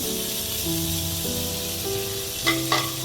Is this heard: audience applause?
no